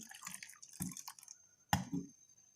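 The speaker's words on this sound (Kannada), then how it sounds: "ಹಾಲನ್ನು ಸೇರಿಸ್ಕೊಳ್ತಾ ಇದ್ದೀನಿ" Milk goes into a blender jar with chocolate and honey for a banana chocolate milkshake, heard as faint, brief splashes and drips nearby, with no talk.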